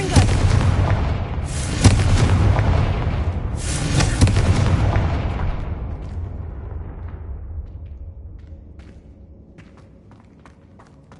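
Confringo fire spells burst in Hogwarts Legacy as two loud booming blasts with crackling debris, the second following about two seconds after the first, then a long rumbling decay fading into near quiet.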